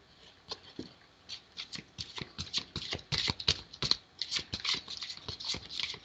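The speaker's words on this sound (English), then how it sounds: "I'm really slopping up the dealing here tonight, the shuffling." Tarot or playing cards are shuffled by hand, a rapid irregular run of crisp riffling snaps and slaps, close and fairly quiet, with no talk.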